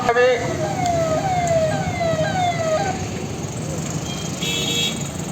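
Vehicles horn and sound a siren-like tone as they arrive at a candle-lit protest march, a loud descending wail over steady crowd and traffic noise.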